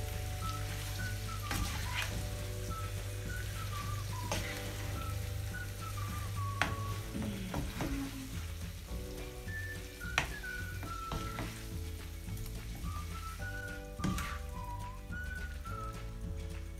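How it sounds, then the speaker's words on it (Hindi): Boiled potato pieces fry and are stirred in a pan for a North Indian aloo sabzi. A soft, steady sizzle runs underneath louder melodic background music, with occasional faint clicks from the stirring. "अब मैं इसमें उबले हुए आलू के कटे हुए पीसेस डालूंगी।"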